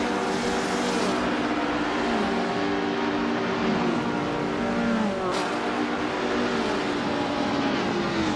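Several racing cars roar continuously in a video game race, engines droning and shifting pitch as they run close together nose to tail, with occasional revs and a passing swell, loud and steady without talk.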